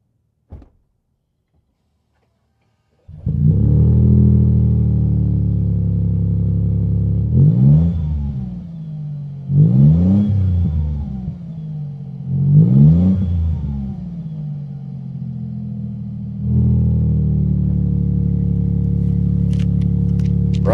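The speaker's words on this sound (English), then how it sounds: "so you can hear what this exhaust note sounds like in a V6 hybrid. So I'll leave it right here, start it up," A 2026 Toyota Sequoia V6 hybrid with TRD performance exhaust starts after a brief silence, then settles into a loud, steady idle, with three swelling revs that rise and fall before the engine drops back to a deep, even rumble.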